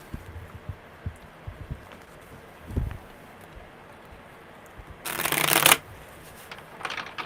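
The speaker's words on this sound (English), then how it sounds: "Good shuffles. Really good shuffles." Close-up tarot card shuffling: scattered soft taps and a thud, then a loud riffle of cards lasting under a second, with a brief shorter riffle after.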